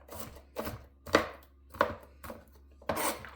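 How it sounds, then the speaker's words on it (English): A knife chopping onion on a cutting board in a home kitchen while beef stew is being made: six separate, fairly quiet chops at an uneven, unhurried pace with no talk. "when cutting onions, do not rub your eyes"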